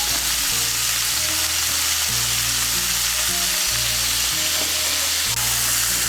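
Vegetables fry steadily in hot oil with salt and turmeric for chire khichuri, a continuous loud sizzle with the soft scrape of stirring and no voices.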